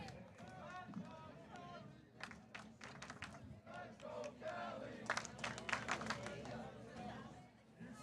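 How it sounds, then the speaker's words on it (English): A crowd in the stands at a high school baseball sectional championship cheers on a batter, with rhythmic clapping and shouts swelling over a steady murmur, fairly distant, while a voice keeps talking over it. "Crowd trying to get Kelly Hay going here."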